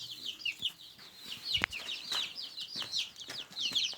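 Chickens cluck and a rooster calls inside a farm coop, a busy, overlapping run of close bird calls with one sharp loud cry near the middle, and no talking.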